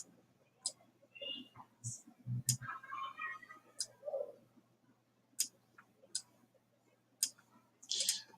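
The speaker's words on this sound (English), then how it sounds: "I'm simply going to right click, copy, click outside, paste, click outside again, and paste" Computer mouse clicks come one at a time and quiet, spaced irregularly while someone right-clicks, copies, clicks outside and pastes. Soft faint speech mutters under them in a quiet room.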